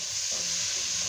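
Fish and corn soup stirred in a pot, a steady close sizzling and bubbling hiss with no talk.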